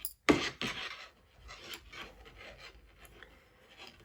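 Yarn end pulled through intarsia knitting, a sudden close rasping pull followed by softer scratchy rubbing strokes of fibre, quiet and intimate with no voices.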